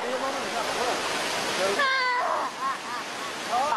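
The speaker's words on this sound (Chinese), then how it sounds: "瀑布下水潭边是最凉爽的地方。" A waterfall in a Chinese national forest park along the Jiulong River pours into a pool below with a steady, close, broadband roar, and faint voices or calls rise over it midway.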